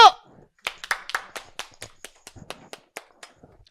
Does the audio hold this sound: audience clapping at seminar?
yes